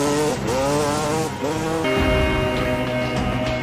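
Dirt bike (trail motorcycle) engine revving hard in a zombie film, a loud continuous buzzing drone that rises and dips in pitch as the throttle changes, alone with no talk.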